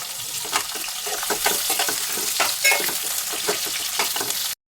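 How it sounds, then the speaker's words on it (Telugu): Onions frying in oil in a kadai with cumin, mustard seeds and curry leaves, a steady close sizzle with crackles and stirring scrapes throughout. "జీలకర్ర ఆవాలు కరివేపాకు వేసుకొని ఆ తర్వాత ఆనియన్స్ వేసుకొని ఫ్రై చేసుకోవాలి"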